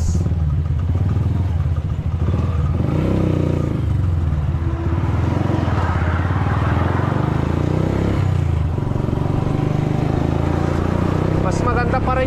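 A hot-running motorcycle engine rumbles steadily close by under continuous talking, with occasional clattering and rises in engine pitch.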